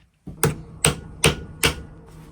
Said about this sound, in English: we're going to try to cut that metal pin right there on the vise over here using the ball peen hammer